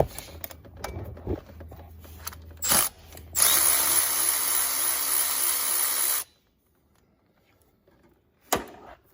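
A power tool, likely an impact gun, rattles loudly for about three seconds while cracking loose a bolt on a GMC Canyon during water pump removal, preceded by short bursts and followed by silence and a brief clunk.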